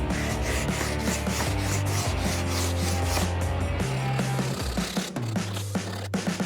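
Sandpaper glued to a flat board rubs steadily back and forth across wood in a continuous, close, dry scratching, with what sounds like background music underneath.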